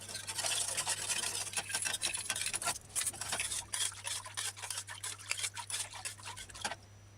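Granulated sugar stirred into homemade sweet and sour sauce for bone-in chicken, a quiet, close run of scraping and swishing strokes in an uneven rhythm with no one talking.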